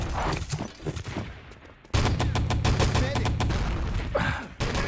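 Rapid gunfire in the Wolfenstein: Enemy Territory video game, bursts of automatic shots that pause briefly then resume as sustained loud fire, with a voice calling out amid the shooting.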